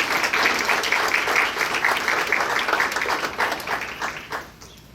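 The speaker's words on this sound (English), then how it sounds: "Let's give these students another round of applause." A crowd at a school board meeting applauds students with steady, dense clapping that fills the room for several seconds, then tapers off toward the end.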